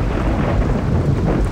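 A thunderstorm in the Saints Row 2 video game gives a continuous, loud, low rumbling roar, like steady thunder and heavy rain. There is no speech over it.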